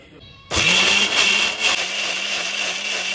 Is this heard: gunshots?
no